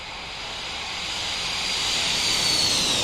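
Boeing 737-200 jet engines roar continuously during a takeoff in the X-Plane 11 flight simulator, a broad loud rush with a high whine that rises and sweeps lower near the end.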